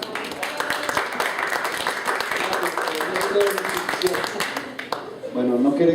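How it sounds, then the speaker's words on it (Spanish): A crowd claps and applauds, scattered clapping building into fuller applause, with people talking over it. "un aplauso"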